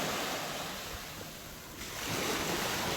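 Ocean waves break and wash steadily onto Donkey Beach as a broad, continuous roar of surf that swells louder toward the end, with light wind noise and no voices.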